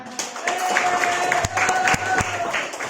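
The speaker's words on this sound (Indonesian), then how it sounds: "Tepuk tangan." Applause breaks out in a classroom after a student group finishes its teaching practice presentation, a dense patter of clapping with several sharper claps and some voices mixed in.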